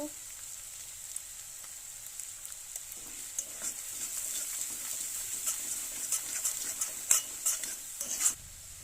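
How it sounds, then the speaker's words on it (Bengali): Fish curry with tangra, bele and golda prawns is stir-fried with salt and turmeric, a continuous sizzle under repeated scraping and stirring of a spatula in the pan, growing busier toward the end, with no voices. "এটা সুন্দরভাবে কষিয়ে নিয়েছি।"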